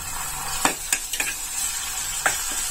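Sliced onions, fried until lightly pink, sizzle steadily in a pan as ginger garlic paste goes in, with a few sharp clatters and scraping stirs over the continuous frying hiss, for a ragda and chana dish.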